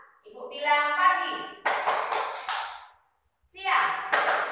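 Children in a classroom clap hands in unison during an ice-breaking response game; an adult voice speaks first, then a few sharp group claps follow, a pause, and another burst of clapping.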